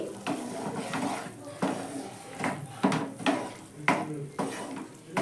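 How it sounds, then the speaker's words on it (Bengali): Green peas are stirred into frying spice paste in a wok, with a soft sizzle beneath repeated scraping strokes of a spoon against the pan, close and steady. "কড়াইশুটিটা দেওয়ার পর মশলার সঙ্গে আবারও ভালো করে আমি একটু মিশিয়ে নিচ্ছি"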